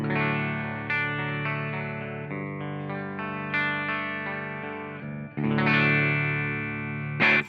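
A clean electric guitar plays sustained chords and notes through an AmpliTube 5 amp plugin, ringing with a slight chorus-like shimmer, no voices.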